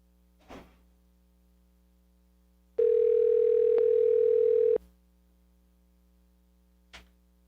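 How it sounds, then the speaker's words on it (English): A telephone gives a single steady tone lasting about two seconds while a call is placed, with faint clicks before and after and no talk. "I'm going to phone up the big guy here."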